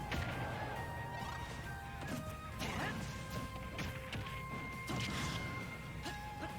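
In a Super Smash Bros match, Samus's up smash sets off a rapid string of explosion hits, sharp crashing bursts landing in quick succession amid game music tones and other fight effects.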